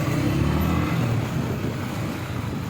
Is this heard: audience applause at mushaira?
no